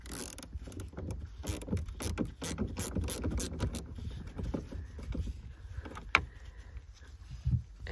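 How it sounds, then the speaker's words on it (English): A ratchet clicking rapidly as it loosens the battery terminals on a 2015 BMW F31 3 Series, quick bursts of metallic ratcheting with brief pauses and a couple of sharper knocks, close but quiet. "Again, that's just going to loosen those terminals."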